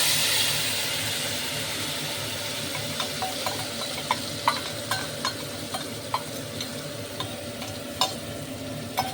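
Nigella seeds crackle in hot oil left over from frying boal fish, giving a continuous close sizzle dotted with a series of sharp pops and ticks that grow more frequent.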